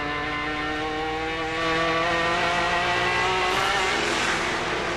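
Onboard a GT race car at Lime Rock in the 2003 Speed World Challenge GT: a loud, close, sustained engine howl whose pitch climbs steadily, with a gear change and a surge in volume shortly in.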